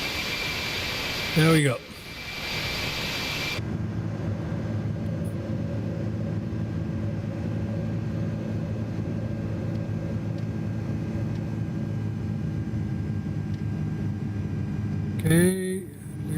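An Airbus A330 climbs out of London Heathrow in Microsoft Flight Simulator 2024, its jet engines holding a steady, droning hum with layered tones. Someone speaks briefly near the start and again at the end.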